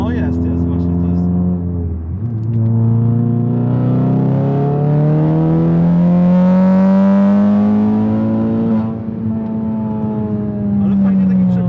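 A heavily modified car's exhaust revs steadily and loudly nearby, its deep droning tone climbing smoothly, dipping briefly around midway, then rising again and holding high.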